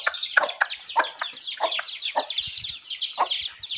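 A hen clucks in quick, close bursts while her chicks peep around her, a steady busy chatter in a farmyard.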